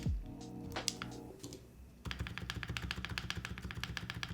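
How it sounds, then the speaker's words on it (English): Close, repeated clacking as a spacebar fitted with a silicone insert is pressed on an Arc60 keyboard with NK Cream+ switches. A few scattered taps lead into a fast, even run of presses. "Let's try the silicone insert now for the spacebar."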